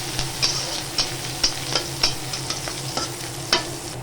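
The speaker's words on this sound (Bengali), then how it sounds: "পেঁয়াজটা একটু ভাজা ভাজা করে নিই।" Chopped onions fry in mustard oil in a kadai with black cumin and dried red chilli, a spatula scraping in regular, fairly loud strokes about twice a second over a soft sizzle.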